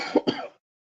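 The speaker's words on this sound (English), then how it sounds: "I always have a lingering cough for weeks after I get a cold." A person with a lingering cough after a cold gives two short, close, fairly loud coughs in quick succession, then silence.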